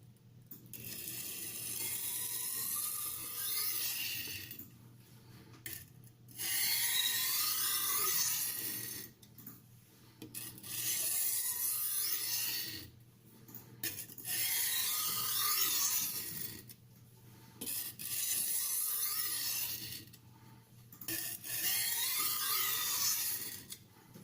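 Tramontina Professional knife being sharpened on a vintage Niles silicon carbide combination stone, with repeated rhythmic rasping strokes in bursts of a few seconds separated by short pauses, close and steady, with a low hum underneath.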